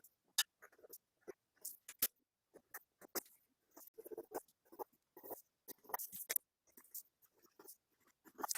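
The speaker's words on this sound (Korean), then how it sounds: "딱딱 꺾인 지점들을 매끄럽게 둥근 선으로 그려줍니다." A pencil draws smooth curved lines on paper while truing a shawl collar jacket pattern with a peplum, giving quiet, irregular scratchy strokes with short pauses between them, close and faint.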